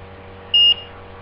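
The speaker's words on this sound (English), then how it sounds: "it beeped because I pushed it against my forehead" A Motorola pager gives one short electronic beep, a steady high tone lasting about a fifth of a second, close and clear over a quiet background hum.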